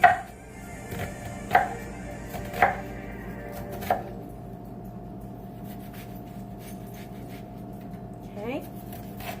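Knife chops an onion on a cutting board with four spaced, crisp thuds early on, then quieter handling, with a person speaking in the background.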